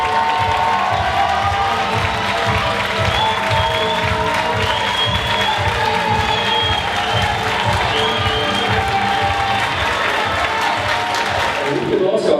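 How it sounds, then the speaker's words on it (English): A large audience at the Mr Gay World 2018 pageant applauds and cheers the remaining contestants, with dense, steady clapping and shouts filling the room for the whole stretch at full loudness. "Let's give our remaining contestants a round of applause."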